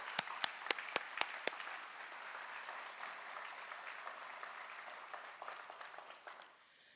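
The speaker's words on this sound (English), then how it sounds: "Please join me in a round of applause for them" Applause at an Ohio State College of Optometry white coat ceremony opens with a few sharp, distinct claps close by, then settles into a quieter, steady patter from the audience before trailing off near the end.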